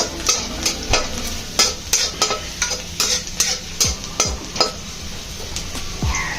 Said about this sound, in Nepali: यो थोरै तेल बाँकी भएकोमा हामीले यसरी लसुन झानिदिउँ। लसुन थोरै भुटेर